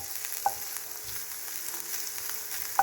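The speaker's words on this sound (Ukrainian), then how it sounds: "Отак смажиться в нас цибуля." Onion sizzles steadily in a pan with a soft continuous hiss, broken by two brief sharp clicks.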